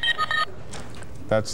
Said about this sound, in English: I thought that was the doorbell sound.